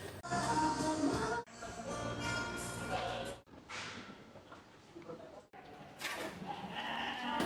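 Goats on a farm bleat loudly and close by, a run of wavering, nasal calls that stop and start again over several seconds, with a faint voice now and then between them.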